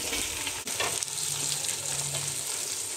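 Curry leaves, coriander and mint sizzle in hot oil in a pot, a continuous close hiss with soft scraping as they are stirred, steady and moderately loud.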